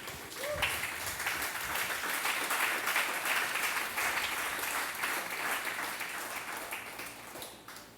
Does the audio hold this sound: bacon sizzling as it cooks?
no